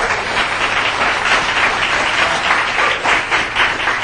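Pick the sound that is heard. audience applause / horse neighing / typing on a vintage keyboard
audience applause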